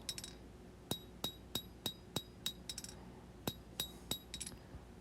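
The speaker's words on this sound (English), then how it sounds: "I'm using the corner of the anvil as a fuller and drawing that blade out for length." Steel knife blade hammered over the corner of an anvil, used as a fuller to draw the blade out for length: a dozen sharp, ringing metallic strikes in an uneven rhythm, some in quick pairs and triplets, close and clear with no talk.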